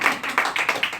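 Congregation clapping at a church prayer hour: quick, steady rhythmic claps, about five in one second, loud and close with no voices over them.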